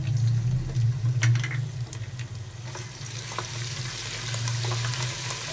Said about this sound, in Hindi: हमारे प्याज फ्राई हो चुके हैं